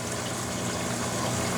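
Reef aquarium water drains steadily into a 1-gallon bucket, a constant close rush and gurgle of flowing liquid with no break.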